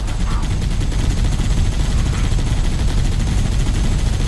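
Rapid gunfire in Halo CE Anniversary while shooting at a squad of jackals, a loud, dense, unbroken stream of automatic shots with no pauses.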